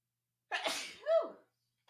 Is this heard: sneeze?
yes